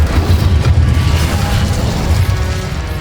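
Incendio fire spell blast in Hogwarts Legacy, a loud, dense roaring burst of booming fire with crackling texture that stays strong and continuous across the moment.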